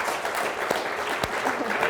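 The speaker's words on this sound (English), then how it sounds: "Can we clap for that?" Audience applause during a live talk show, a dense wash of clapping at moderate level with a few louder individual claps standing out, no speech clearly audible.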